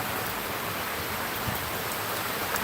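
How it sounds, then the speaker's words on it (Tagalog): Heavy rain pours down steadily as a dense, continuous wash of noise with no pauses, loud and close throughout, with no voices heard over it. "Grabe po yung ulan dito ngayon. Lakas ng ulan."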